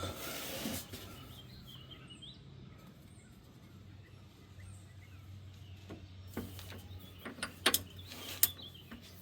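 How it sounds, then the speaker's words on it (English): A torque wrench set to 90 tightens the rear pinion on a Toyota FJ Cruiser, with quiet mechanical working followed by a cluster of sharp, close metallic clicks near the end. Birds chirp faintly in the background. "Got the torque wrench. Got her set on 90."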